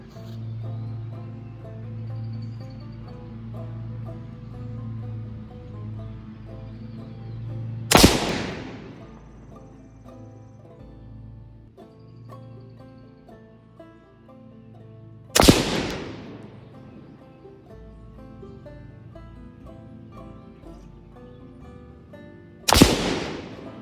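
A 6.5 Grendel rifle on an 18-inch BCA replacement upper fires three loud, sharp single shots about seven seconds apart during accuracy testing, each with a short decaying echo, over soft background music.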